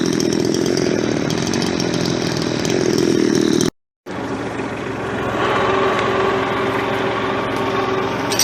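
Chainsaw carried on a compact tractor running loud and steady near the mic, with a brief cut-off midway before the engine roars on again during logging work.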